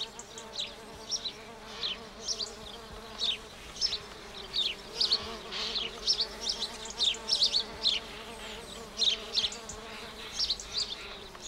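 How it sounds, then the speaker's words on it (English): Tiny halictus bees buzz around a pink rock rose growing in the wild in Israel, with many short, repeated near buzzes rising and fading over a steady background hum. "the tiny halictus bees find the pink rock rose an attractive source of pollen"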